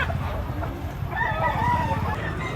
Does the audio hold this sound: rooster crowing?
yes